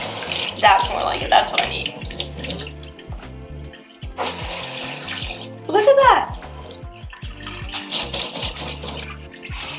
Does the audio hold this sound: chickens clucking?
no